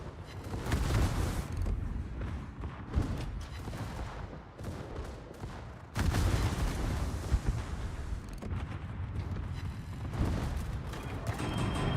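Secondary battery guns aboard a warship in World of Warships fire in a rolling, continuous barrage of booms, with a louder surge midway and constant rumbling gunfire throughout.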